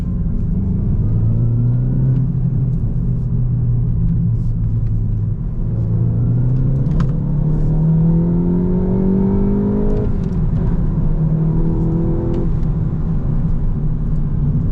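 Tuned VW GTI tuned to 350 wheel horsepower, its engine droning loudly and continuously from inside the car while driving, pitch rising and falling through acceleration and gear changes.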